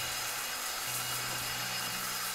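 An angle grinder cuts through metal in the ship-breaking game Ship Graveyard Simulator 2, giving a steady, harsh, high whine with a loud constant hiss and a low hum beneath, with no talking.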